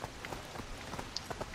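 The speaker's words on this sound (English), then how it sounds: "Yay, Rain!" Patter of rain in Resident Evil 6 falling on a surface, with scattered droplet taps and a steady soft hiss, fairly close and even throughout.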